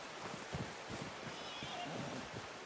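A horse in the Western video game Red Dead Redemption II snorts and stamps, with soft clip-clop steps over a faint ambient wash, the sounds close and brief.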